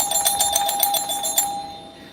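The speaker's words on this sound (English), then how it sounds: "Oh, that's how doorbells work." A doorbell rings with a rapid series of bright, even chimes, loud and close, for about a second and a half before cutting off, with no talk.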